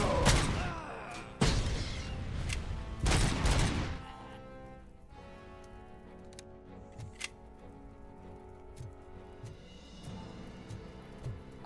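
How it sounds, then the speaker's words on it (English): Gunfire and grenade explosions in RoboCop: Rogue City hit close and loud: three heavy bursts of shots and booms, then sparse clicks and scattered faint impacts. "That gun has a lot of kick on it. There's fucking grenades going everywhere."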